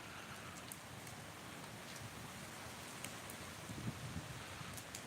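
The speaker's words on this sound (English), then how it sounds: "It's just raining too much." Heavy rain falls outdoors near a fort with a cemetery, a steady dense hiss of drops on surfaces filling the whole stretch, with a few louder spatters and no voices.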